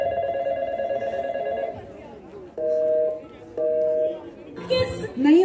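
A telephone rings in steady bursts with pauses between them, fairly loud and close, while faint voices murmur in the background.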